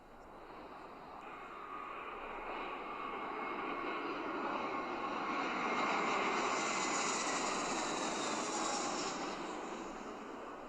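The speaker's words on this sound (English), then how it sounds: "Get your passports, boarding passes, and luggage ready. We're about to take off." An airplane engine roars through a takeoff, a broad, steady rushing drone that swells gradually to a peak and then eases slightly, heard alone without voices.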